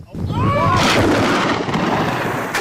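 Thunder rumbles loud and close during a rainstorm over the haor wetlands of Kishoreganj, a broad continuous roar with heavy rain noise throughout and a brief rising whistle-like tone early on.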